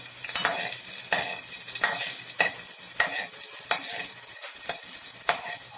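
Garlic fries in a pan for a sauce, a steady sizzle punctuated by regular scraping strokes of a utensil roughly every half second, close and clear with no talking.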